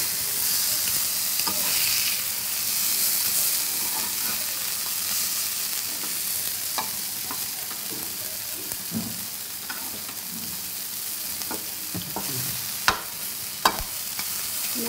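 Bombil and kalvan fish, with prawns, fry in a pan of hot oil, giving a steady loud sizzle throughout with occasional stirring clinks and scrapes near the end and no talk.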